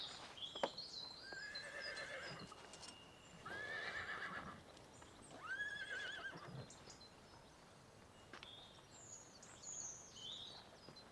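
A horse neighs and whinnies in several rising, wavering bursts, with faint hoof clops and a few distant bird chirps in between.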